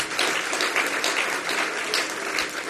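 A seated crowd at a Jain Kalash Sthapna religious gathering claps together, producing a thick, continuous wash of applause at even loudness across the whole short stretch.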